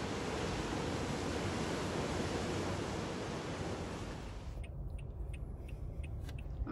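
Ocean waves washing up on the sand at Panama City Beach, a loud continuous rush of surf that drops abruptly to a quieter low wash with faint ticking sounds.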